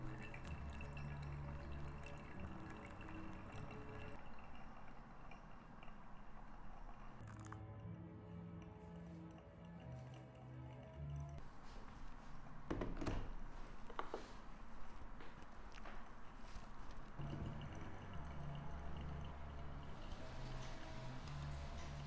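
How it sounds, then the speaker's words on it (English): Water streams steadily into a V60 coffee dripper with liquid splashing and trickling, a continuous pour close by with faint dripping sounds underneath. "I'm gonna pour now until I reach 300 grams of water."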